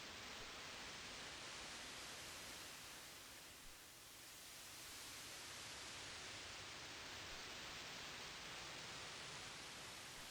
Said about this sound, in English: I really like how this white noise kind of sounds like wind.